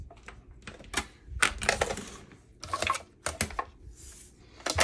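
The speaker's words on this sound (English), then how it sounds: "Let's bring over our little cut and emboss machine." A small manual cut and emboss die-cutting machine is cranked, giving irregular sharp clicks and clattering ratchet bursts, close and fairly loud with no one speaking.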